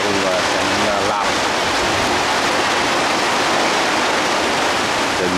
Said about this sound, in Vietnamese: Trời mưa lớn quá quý vị ạ.